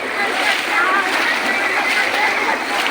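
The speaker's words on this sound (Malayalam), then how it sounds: "വെള്ളം തെറിപ്പിക്കല്ലേ?" Water splashes and sloshes steadily around a small boat out on the water near Sambranikodi in Kerala, a continuous close rush of spray heard alone.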